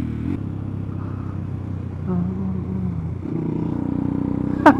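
A Honda Grom motorcycle engine holds a low, steady drone while racing, then swells as it revs, with a sharp clatter at the very end.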